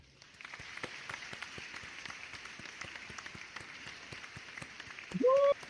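An applause sound effect from a button crackles steadily at a moderate level, a continuous patter of clapping, ending with a brief rising whoop.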